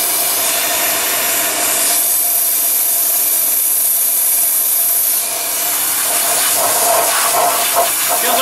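Air rushes through the heater core of a 2001 GMC truck during a cleanout, making a loud, steady broadband hiss that holds constant for the whole stretch with slight surges near the end.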